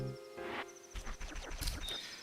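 A horse in the video game Majora's Mask whinnies and snorts over light game sounds, with hoof clatter and brief chimes, at moderate volume.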